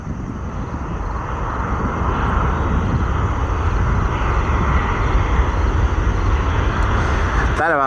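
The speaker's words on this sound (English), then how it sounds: "American Airlines Flight 181 inbound from Athens, Greece." American Airlines jet inbound from Athens arriving at Chicago O'Hare, a broad steady roar of jet engines at moderate distance, continuous throughout with a brief voice near the end.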